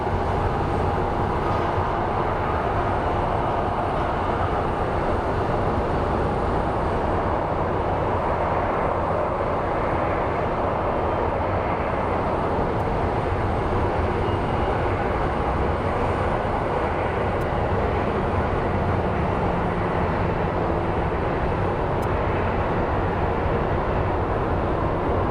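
An Airbus A350 airliner at Phoenix Sky Harbor airport makes a steady, broad engine roar and rush that holds at an even loudness throughout, heard from a distance with no voices.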